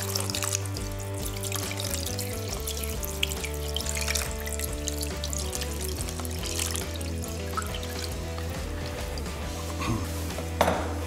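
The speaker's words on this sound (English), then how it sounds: "So now I'm just gonna pour the brine on top." Salt brine streams steadily from a container over steelhead fish in a kitchen, a continuous close pouring and splashing sound with a low hum beneath.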